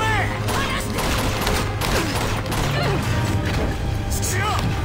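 Bursts of gunfire and crashing impacts from the video game Uncharted 2 fill the scene continuously, with a player's voice talking over the action.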